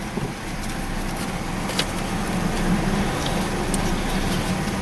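A Chevy S-10 pickup backs out in two-wheel drive, its engine and drivetrain giving a steady, broad low rumble with rising road noise, heard up close and continuous with no talking.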